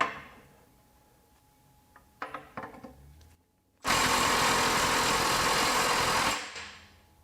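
Makita XWT17 mid-torque cordless impact wrench on a 6.0 battery, run in impact mode 4: after some light handling clatter and a short silence, a loud steady hammering buzz runs for about two and a half seconds, then cuts off.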